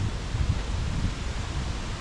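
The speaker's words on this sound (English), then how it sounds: "the wind sure is picking up quite a bit" Gusting wind blows through a park along a creek, making a dense, continuous rustle of leaves with low buffeting surges against the microphone and no voices.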